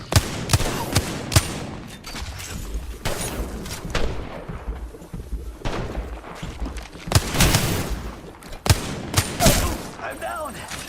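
Gunfire rings out in a battle royale shooter during an esports watch party, with repeated sharp shots and bursts at close range spread across the stretch, alongside game noise.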